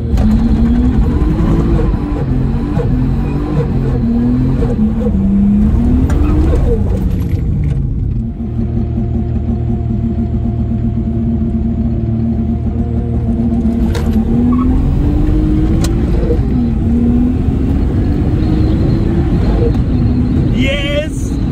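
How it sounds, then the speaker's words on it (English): A turbocharged Lexus IS200 revs hard at a drag strip, the engine rising and falling in long, loud pulls during a burnout to heat the tyres, with voices talking over it. "We'll have to do a big burnout here probably."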